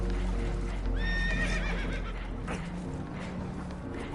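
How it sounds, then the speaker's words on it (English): Spooked horses whinny and neigh loudly in Red Dead Redemption 2 aboard a damaged boat taking on water, with a rising neigh near the start, clip-clop and rumbling water noise underneath. "Horses are spooked, and we're taking on water."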